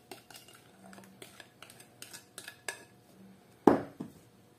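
Lemon pie filling spooned onto thin rolled dough for a three-layer Tatar pie: soft scrapes and light clinks of a spoon against a dish, a few taps and one sharper knock near the end, fairly close and quiet.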